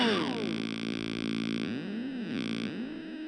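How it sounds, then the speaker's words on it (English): Reamped guitar driven through a chain of distortion and special-effects pedals, with sustained, heavily processed harmonic tones that warble and swoop in pitch, loud and alone with no talking. "You can have a lot of fun with this chain, with a Reamp setup like this, to add distortion, special effects."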